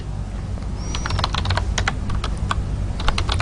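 Rapid clicking of a computer keyboard as text is typed, close and steady over a constant background hum, with no voices.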